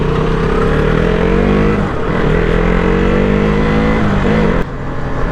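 A KTM motorcycle engine revs steadily and loud up close, with a brief dip and jump in pitch near the end as it is shifted up a gear without the clutch, on a city road.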